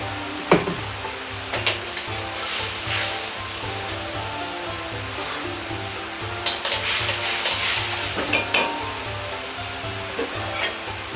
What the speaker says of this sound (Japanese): 加熱してスープを沸かします。